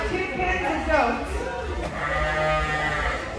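Goats in a birthing pavilion pen bleat in a few wavering calls, moderately close, while a person talks over them.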